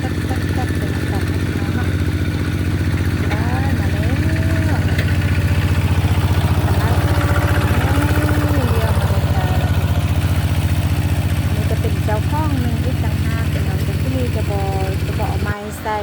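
A tractor engine drones steadily at low pitch throughout, with people talking over it.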